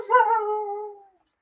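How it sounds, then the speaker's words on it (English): A new puppy whines outside a closed door, one drawn-out high whimper that rises briefly and fades away, close and alone. "new puppies, and she didn't want to be locked out of the room. She sat there whining for a while."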